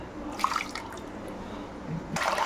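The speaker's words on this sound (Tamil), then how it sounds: "இப்போ தண்ணி ஊற்றிக்கலாம்." Water pours into a pot of black pepper rasam in a kitchen as a soft, close splashing trickle that comes in short bursts, with a brighter gush at the end.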